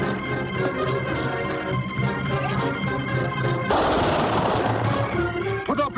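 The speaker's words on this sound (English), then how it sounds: "Good shooting, Cisco." Gunshots ring out in a gunfight from The Cisco Kid, an old Western TV series, cracking repeatedly over a dense, busy backdrop of music and action noise.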